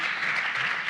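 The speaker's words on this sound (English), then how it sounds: "Big applause." Brief burst of applause from a science diplomacy conference audience, a dense even wash of clapping with no pauses.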